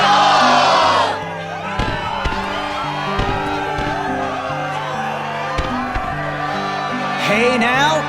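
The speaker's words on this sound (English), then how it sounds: "Yes, the crowd is fired up, so you know what comes next." In a Kingdom Hearts 2 arena scene, a game crowd cheers and whoops in a brief loud burst, then fades beneath looping background music, with a swell of crowd noise returning near the end.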